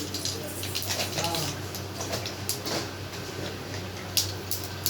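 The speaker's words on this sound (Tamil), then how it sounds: "எண்ணெய் ஊற்றிட்டு கடுகு போட்டுக்கலாம்." Mustard seeds crackle in hot oil while cabbage poriyal is cooked, a steady close hiss with scattered small pops and spits throughout.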